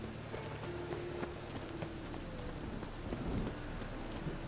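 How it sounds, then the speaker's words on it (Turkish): Steady rain falling in a city in the video game The Witcher 3: Wild Hunt, with a low rumble of thunder rolling underneath. The whole scene is faint ambience with no speech. "Neden ben bu şehre girdiğimde sürekli yağmur yağıyor abi?"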